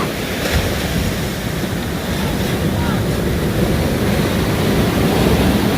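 Loud, steady roar of ocean surf crashing onto the shore, broadband and continuous with wind buffeting the microphone throughout.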